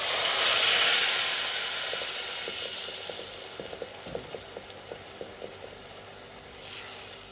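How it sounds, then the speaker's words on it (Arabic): A cup of water poured into golden toasted vermicelli in a hot pan gives a loud steamy hiss and sizzle that slowly fades into soft bubbling pops. "هلا بنحط فوقها كوب المي"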